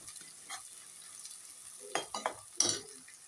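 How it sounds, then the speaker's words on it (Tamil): Onions sautéing in oil for chicken gravy, a faint low sizzle broken by a few sharp stirring and scraping clicks toward the end, quiet and close. "வெங்காயம் நல்லா வணக்கிக்கலாங்க."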